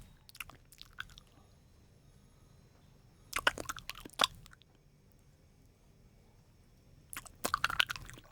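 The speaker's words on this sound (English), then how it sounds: "he'd spend about the next 5 minutes fishing wee bits of food out for the corner of his mouth with his tongue" Wet mouth and tongue sounds of someone picking bits of food from his teeth, coming in short clicky, smacking bursts separated by quiet gaps.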